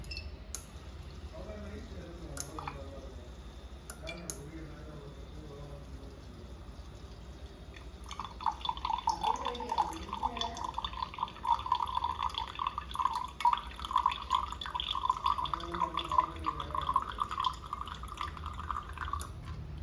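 Water streams steadily from a homemade automatic water dispenser into a glass for several seconds, a soft continuous pour that rises in pitch as it fills, with a faint voice beneath.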